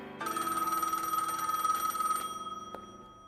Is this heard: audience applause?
no